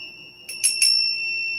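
Small bells chime a few bright, ringing strikes that overlap and then sustain into a lingering shimmering tone, played to set a calm, centered mood.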